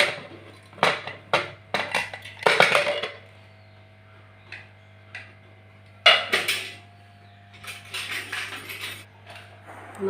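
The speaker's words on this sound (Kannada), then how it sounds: "ತೆಗಿತೇನೆ ಬಾಯಿ ಮುಚ್ಚಳ." A pressure cooker of mint pulao is handled and its lid opened, giving a series of close metallic clanks and knocks in bursts with quiet pauses between them.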